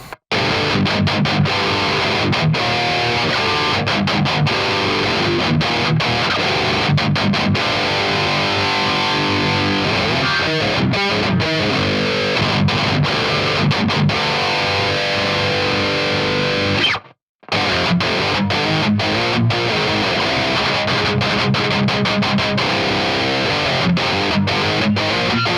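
A seven-string Schecter Hellraiser C-7 guitar tuned to G standard, played through an STLToneHub Andy James 6505 amp preset, gives loud, heavily distorted high-gain riffing that runs nearly the whole time, with one brief full stop near the end.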